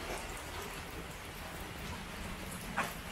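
Steady rain falls outdoors, a dense, even patter that stays soft and constant throughout, with a brief sharper splash or rustle near the end and no talking.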